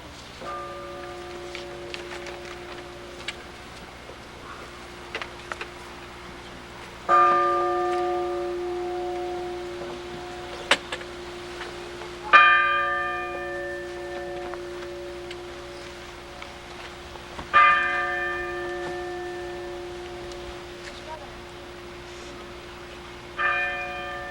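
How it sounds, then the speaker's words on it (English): A bell rung during a veterans memorial dedication in Central Falls honoring those who died in service, struck four times at slow, even intervals, each clear metallic strike ringing out and fading slowly over quiet outdoor ambience. "At this time, we'll ring the bell."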